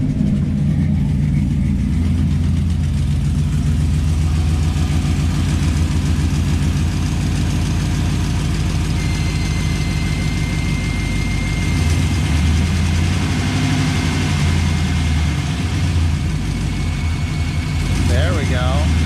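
A Squarebody Chevrolet K10 truck engine idles unevenly with a slight hunting idle, a deep, throbbing low rumble that pulses steadily and close by, with someone talking over it.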